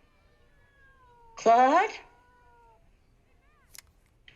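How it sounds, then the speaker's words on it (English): A cat gives a single loud, drawn-out meow at close range, following a voice calling out. "Here, kitty, kitty, kitty, kitty, kitty."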